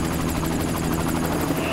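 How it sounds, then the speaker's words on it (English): A helicopter flying over thick forest while tracking elephants, its rotor beating in a steady rapid chop at close range, loud and continuous throughout. "we use a helicopter to try and put them out"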